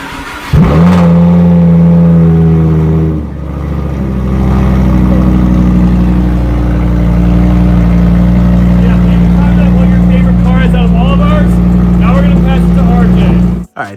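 A car engine fires up from a cold start with a sharp catch, then settles into a loud, steady, throaty idle with occasional rises, while a person talks over it.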